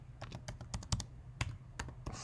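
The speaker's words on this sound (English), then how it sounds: "I can type over here" Close, steady typing on a computer keyboard: a run of crisp individual keystrokes in an uneven rhythm, with no voices.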